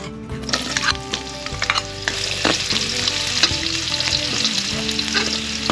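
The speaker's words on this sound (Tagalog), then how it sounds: "Unahin natin gisahin yung luya." Ginger sautés in hot oil with a loud, continuous sizzle and frequent clattering stirs of a utensil against the pan, no voices.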